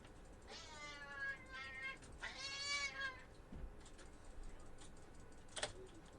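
A cat meows several times up close, drawn-out and whiny, with short gaps between calls, over faint background noise, and a brief tap near the end.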